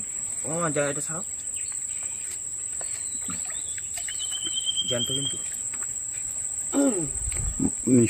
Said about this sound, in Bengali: পাখির ডাকগুলো কিন্তু শোনা যায় একদম নির্জন